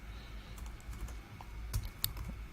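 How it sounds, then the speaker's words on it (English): Quick bursts of keystrokes on a computer keyboard, close and fairly quiet, with irregular clicks and one louder tap. "I'm goofing with my keyboard."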